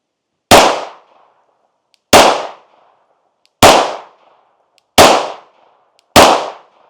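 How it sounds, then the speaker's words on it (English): Five sharp, loud Glock pistol shots ring out at an outdoor range, evenly spaced about one and a half seconds apart, each a crisp bang with a short decaying tail and silence between. No voices are heard. "Let's go ahead and get a couple groups downrange and see how accurate this one is."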